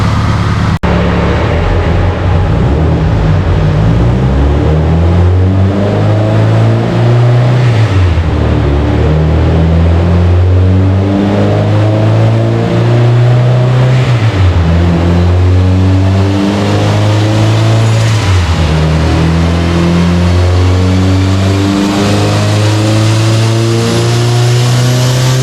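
A 600whp stock-motor Mustang on an acceleration pull, its engine roaring loud and close as it revs up through several gears, with the pitch climbing and dropping back at each shift and no talk over it.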